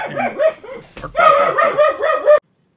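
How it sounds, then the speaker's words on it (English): Dog barking excitedly after a doorbell rings, several loud, close barks and yips in quick succession with whiny tones, cutting off abruptly into silence. "Ash's doorbell went off and his dog's going crazy."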